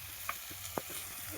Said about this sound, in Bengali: এবার আলু ভাজা হচ্ছে।